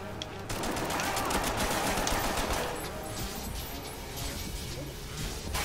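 Gunfire in the video game MindJack: dense, continuous rapid shots and crackling bursts layered over loud background clatter for the whole stretch, with no clear voices.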